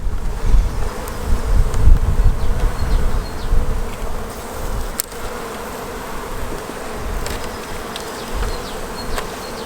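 A dense, loud drone of honeybees swarms around an opened hive, nearer and heavier at first, then settling to a steady hum with the odd bee zipping past.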